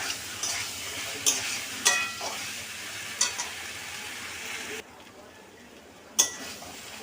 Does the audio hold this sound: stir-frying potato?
yes